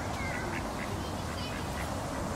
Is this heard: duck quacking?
yes